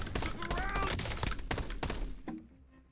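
Gunfire in a shooting video game: a handful of sharp, close shots crack out in quick succession over other game sounds, then fade off toward the end.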